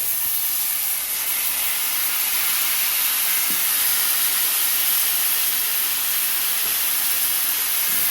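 Minced garlic added to golden-brown chicken of the woods mushrooms in a hot pan, producing a steady, loud, close hiss of frying that holds evenly throughout, with no talk.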